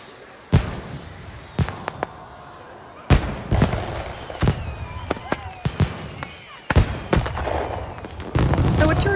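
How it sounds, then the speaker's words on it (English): A fireworks display in the TV sitcom The Middle, with a series of sharp booming bangs at irregular intervals, some followed by crackling, while people talk in between. "it's impossible to stay mad during fireworks"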